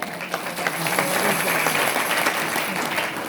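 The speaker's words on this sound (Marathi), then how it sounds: "म्हणून एकदा नियोजन करता जोरदार टाळ्या वाजवा." An audience at a Marathi kirtan bursts into loud, sustained applause, a dense and even roar of many clapping hands close by that holds strongly from start to finish.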